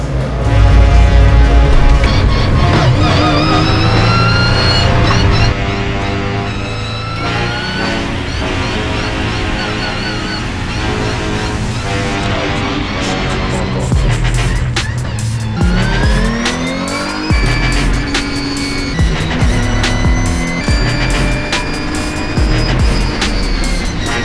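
A race car engine at Spa, with a steering problem, revs loudly and steadily, its pitch climbing and falling in repeated sweeps as it pulls away, with no gap in the sound.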